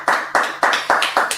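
A few people clap together at the end of a class, about six sharp, evenly spaced claps in a quick steady rhythm, close and loud.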